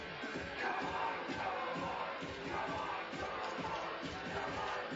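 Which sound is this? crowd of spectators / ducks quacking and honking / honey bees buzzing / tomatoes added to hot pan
crowd of spectators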